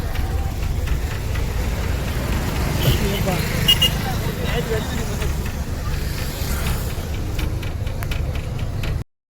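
Steady heavy road traffic rumbles through a Marathi-speaking passenger's ride, a dense low drone of cars, buses and engines with scattered ticks above, continuous for about nine seconds before cutting out abruptly.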